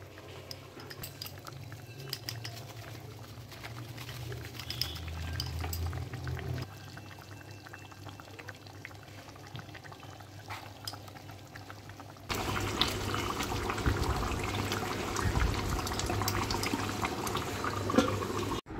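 Kewra water and rose water are poured into simmering chicken for a homemade biryani. Liquid trickles and splashes up close over a steady bubbling background, and the sound grows louder and denser in the final stretch.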